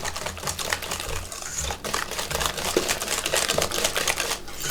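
Rapid, steady clicking and scraping of a whisk beating Easter paska bread batter in a bowl, close and continuous with no talking.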